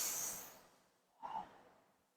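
Two deep breaths during a guided breathing exercise: a long, fading exhale, then a brief pause and a sharper nasal inhale, close and quiet.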